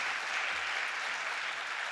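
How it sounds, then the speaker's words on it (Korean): A congregation applauds at a Friday late-night prayer meeting during a testimony night in a church: dense, steady clapping from many hands fills the whole stretch at moderate loudness, with no speech over it. "다시 한번 박수해 주시고"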